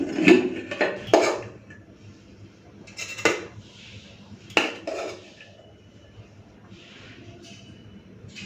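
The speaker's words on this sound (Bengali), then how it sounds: "নিয়ে নিলাম ভাতের থালা চলুন ভাতটা বেড়ে নিই" Metal dishes clink and a spoon scrapes against a plate in short bursts as rice is served, close by, with quiet background between.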